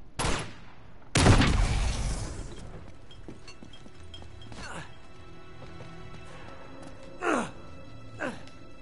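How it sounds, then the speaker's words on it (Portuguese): Explosion in the video game Uncharted 2: Among Thieves, a loud burst with a long crashing decay, followed by scattered fainter impacts and a couple of short sharp gunfire-like cracks later on. "Explosão."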